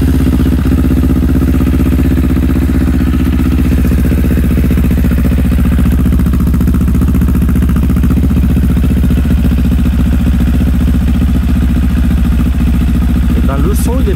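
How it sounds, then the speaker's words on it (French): A machine's engine running loud and close after a new silencer has been fitted, holding a steady, rough idle throughout with no pauses. "on va démarrer la machine, on va écouter le son"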